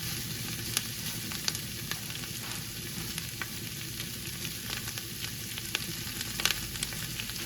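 A pan of crab cooking down with half a yellow onion, giving a steady soft sizzle and frying crackle throughout, with small pops scattered over the continuous hiss.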